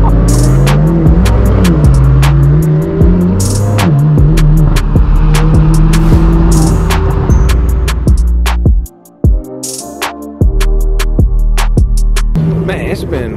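A supercar with a loud exhaust launches from a stop, its engine revving hard through rapid gear changes with sharp crackles and pops. The sound is loud and close, a brief lull breaks it, and a voice talks over parts of it.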